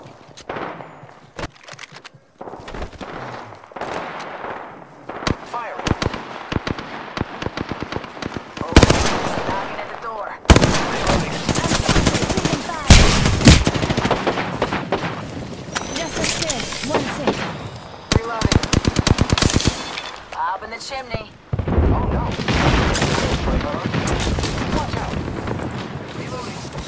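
Automatic gunfire from the Apex Legends video game, dense rapid bursts and explosive booms that run almost continuously and loudly, with game voice callouts mixed in.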